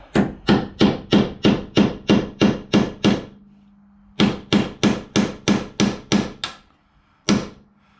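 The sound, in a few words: hammer tapping a bolt extractor into a broken bolt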